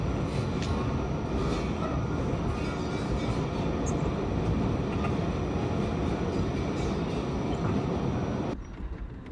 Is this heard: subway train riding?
yes